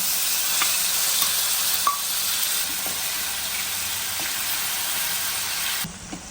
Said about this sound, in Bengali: এখন এই তেলে আমি ম্যারিনেশন করা এই চিকেনটা দিয়ে দেব।